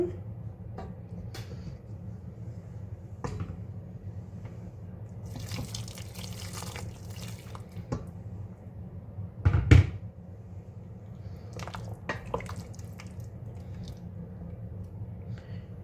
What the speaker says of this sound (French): J'ai mis à peu près un demi-litre d'eau